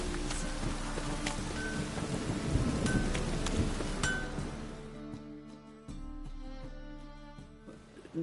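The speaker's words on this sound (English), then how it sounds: "It just rains and rains." Steady heavy rainfall pours down in a video game scene, a dense hiss with scattered clinking drops and a low rumble of thunder, easing slightly toward the end.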